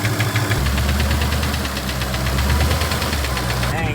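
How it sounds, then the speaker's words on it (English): A Hellcat Durango engine idles with a rapid, regular ticking from the front of the motor, close and steady over a low rumbling drone. "Did you hear that little ticking though up front?"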